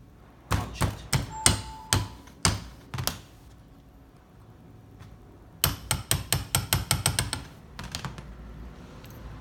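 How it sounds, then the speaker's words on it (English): A hammer taps a punch to drive the main pin back into a WE PDW gas blowback airsoft gun: two close, sharp runs of metallic strikes separated by a quiet pause, with no talking. "And then punch the main pin back."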